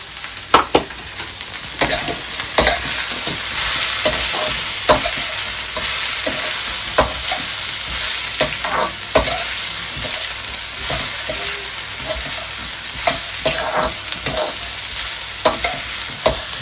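Manchurian stir-fried with cabbage, capsicum and carrot on a stove, a loud continuous sizzle broken by frequent sharp spatula scrapes and clanks against the pan, with no talking.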